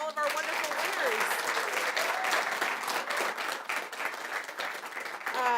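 An audience applauds children receiving award certificates at a ceremony. The clapping is steady and sustained at moderate volume, and voices are heard talking underneath it.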